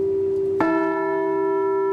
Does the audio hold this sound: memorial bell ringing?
yes